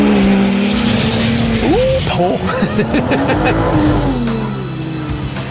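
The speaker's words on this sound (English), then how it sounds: "There we go, get the car sideways and slight correction." A 2016 Volvo V60 Polestar drifting sideways through a corner, engine loud and revving with brief tire squeal, while someone talks over it throughout.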